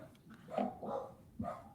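Dogs bark in a few short, mid-level bursts close by, with gaps between the barks.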